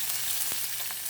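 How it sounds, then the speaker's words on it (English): Calf liver frying in a pan inside an RV, a steady close hiss of sizzling fat with a few soft pops, brief and without talking. "I don't know if you can hear it sizzling right now. It is sizzling"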